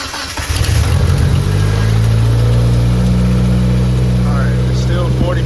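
A turbocharged Mazdaspeed Protege with a failing turbo cranks and fires up, then settles into a steady, loud, close-up idle hum, with people speaking faintly in the background.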